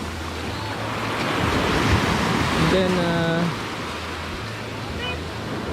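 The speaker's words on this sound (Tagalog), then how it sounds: "Pero unusual yung kanyang sobrang lalaki ng alon." Large ocean waves surge and roar steadily at Patitinan White Beach in Sagnay, Camarines Sur, a loud continuous wash with wind buffeting the microphone, while a voice speaks briefly partway through.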